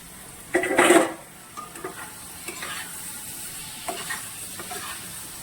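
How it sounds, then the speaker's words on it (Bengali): Boiled potatoes fry with spices in a pan, opening with a loud burst of sizzling and stirring, then settling into quieter sizzle with scattered utensil scrapes and clinks. "সেদ্ধ করা আলুটা আমি এখানে মশলার সঙ্গে একটু কিছুক্ষণ ভেজে নেব।"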